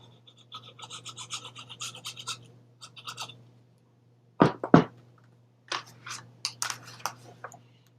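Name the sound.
folding and burnishing paper for a mini album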